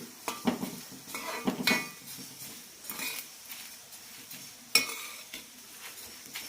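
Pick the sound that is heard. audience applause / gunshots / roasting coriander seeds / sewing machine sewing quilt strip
roasting coriander seeds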